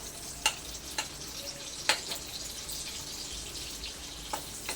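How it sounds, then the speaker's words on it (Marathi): Garlic frying in oil, producing a soft continuous sizzle punctuated by a few sharp crackles and spatters, quiet and close with no voices. "आपल्याला लसूण तेलामध्ये फ्राय करून घ्यायचं आहे"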